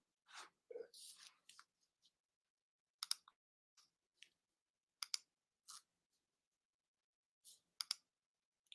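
Scattered sharp clicks and taps of a computer keyboard come in brief isolated bursts with quiet gaps between, close and fairly faint.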